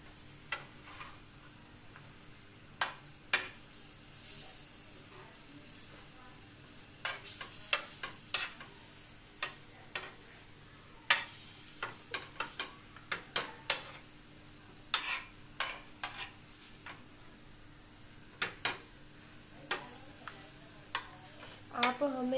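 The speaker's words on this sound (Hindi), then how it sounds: "इसको हमें मीडियम फ्लेम पे शैलो फ्राई करना है" Cooked vegetable mixture shallow frying in a pan over a medium flame, a steady soft sizzle broken by frequent sharp ticks and scrapes of stirring, close and fairly quiet, no talking.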